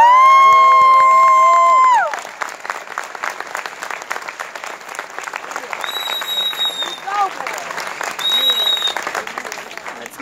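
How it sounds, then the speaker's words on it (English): At an Army infantry battalion awards ceremony, a brief opening tone gives way to a crowd's sustained clapping and cheering for the awardees, with shouts and sharp whistles rising above the applause. "Ladies and gentlemen, please give the awardees a round of applause."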